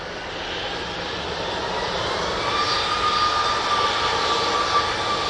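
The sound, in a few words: Ryanair plane at Manchester Airport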